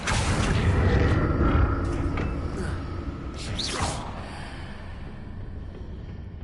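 Accio summoning spell cast in the Hogwarts Legacy video game: a dense low rumbling boom that gradually eases, then a swift whooshing sweep rises midway and fades into a quieter tail.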